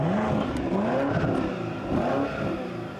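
A 2026 BMW X7 SUV with a 40M exhaust revs, the engine note rising in repeated sweeping bursts, loud and close, with no talking.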